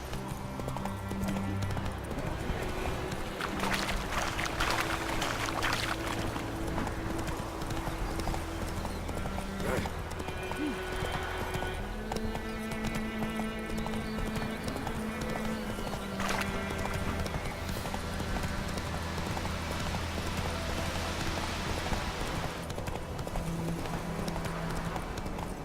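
Roach, a horse in The Witcher 3, trots with steady rhythmic hoof clip-clops throughout, heard under game music and occasional talk.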